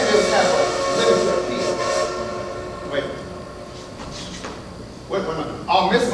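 A train effect plays on stage during a school musical, with rumbling rail noise and horn-like tones running loud and steady before fading under a busy theatrical mix.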